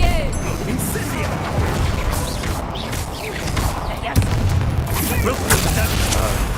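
Incendio fire spell cast in the Hogwarts Legacy video game, heard as a dense rumbling burst of flame and crashing impacts with booms, amid constant game combat noise and character voices.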